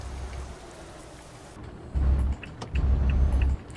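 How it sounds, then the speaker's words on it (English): Rain patters steadily in the driving game Euro Truck Simulator 2 under a low truck engine drone, with deeper rumbling surges coming and going near the end. "Oh, it is actually raining on my screen now."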